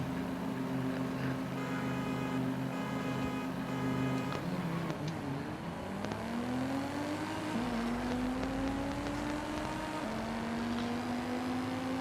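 A BMW M5 engine in the Forza Horizon racing game holds a steady droning note, then its pitch dips and climbs again as the revs shift. The sound is moderately loud and heard alone.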